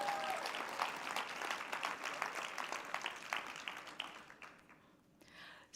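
A conference audience claps for Dr. Nkuna at the CATHSSETA sector skills conference, with dense applause that thins into scattered claps and fades toward the end.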